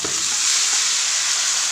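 Banana stem frying with ginger and garlic in a pan, a loud continuous bright sizzle with faint stirring scrapes, no talking.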